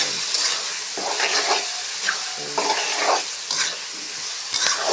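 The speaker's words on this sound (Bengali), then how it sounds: "হালকা ভাজলাম পেঁয়াজটা" Onions frying and being stirred in a pan, a steady close sizzle and hiss broken by repeated scraping stirs, with no one talking.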